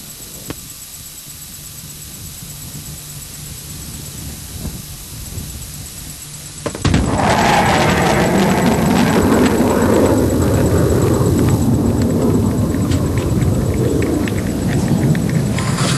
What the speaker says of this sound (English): MiG-29 about to break the sound barrier.